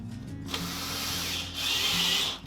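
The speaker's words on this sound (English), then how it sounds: "and then drill slowly," A power drill whirs steadily as it drives a push-in fixing into plasterboard, the motor note rising and straining near the end before easing off, close and fairly loud with no talk.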